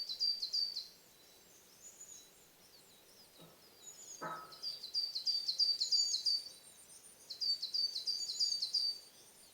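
Birds singing outdoors, faint and at some distance: repeated high chirping phrases in bursts, with a couple of brief soft knocks in between and no talk.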